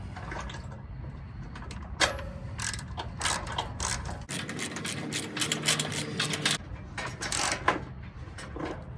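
A hand ratchet with a 13 mm socket clicks in quick bursts while driving a bolt on a truck splash shield and skid plate, close up, with short pauses between strokes.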